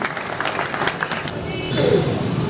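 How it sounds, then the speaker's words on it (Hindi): Audience at a Hindi kavita recital applauds to welcome a poet, a short, steady burst of clapping that swells slightly toward the end, with a voice briefly audible over it. "जोरदार तालियों से स्वागत"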